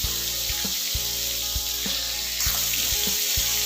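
Hill bami fish frying in hot oil, a steady loud sizzle running throughout with occasional sharp pops and spits close by.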